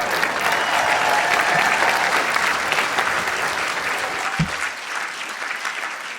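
An awards gala audience applauds steadily and loudly, clapping dense and sustained, with one sharp thump near the end as it tapers slightly.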